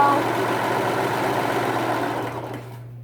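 Sewing machine running steadily while stitching elastic onto a caftan dress, a close, continuous motor hum with a fast stitching rattle that fades as it slows and stops.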